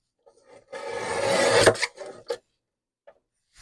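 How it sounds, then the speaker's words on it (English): Scissors or a blade trims tape marks off a letterpress card, giving a sustained scraping cut of about a second, then a few short snips and rustles, close and fairly quiet. "I'm going to first trim those top tape marks off"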